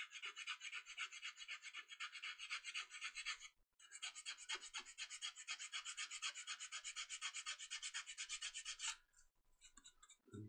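Sandpaper works the edges of 3D-printed wing parts for a Banshee model airplane in rapid, steady rasping strokes, close and continuous, with one brief pause and a short stop near the end.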